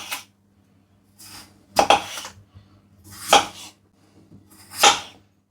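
A knife slices through a potato with the skin on against a bamboo chopping board in four separate strokes, each a sharp crisp cut with quiet pauses between.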